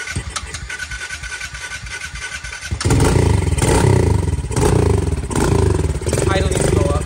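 A 2023 Kawasaki KLX110 dirt bike with a 143cc bore kit, Mikuni VM26 carburetor and BBR exhaust, running on choke: after a quieter stretch the engine catches into a loud, steady, slightly uneven idle, with people talking over it.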